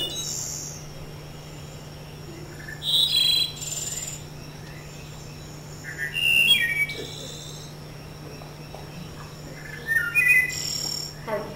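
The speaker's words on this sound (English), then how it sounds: "how many of you have heard the song of the wood thrush?" Fluty, whistled wood thrush song phrases ring out three times at spaced intervals over a quiet background with a low steady hum.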